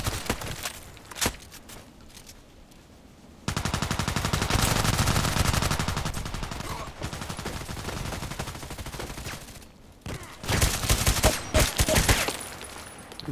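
FN SCAR-H battle rifle fire in the shooter game Contract Wars: loud, sharp gunshot cracks, with a dense sustained stretch of shooting in the middle and more clustered shots near the end, no voices.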